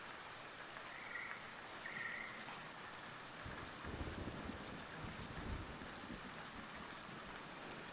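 A rainstorm in the city-building game Foundation: faint, steady rain hiss with a low rumble of thunder swelling midway, distant and quiet, with no voices.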